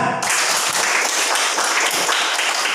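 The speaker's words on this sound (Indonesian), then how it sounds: "Iya, tepuk tangan." Classroom applause from a group of students, a dense steady patter of many hands clapping together at close range, sustained without pause and with no talk over it.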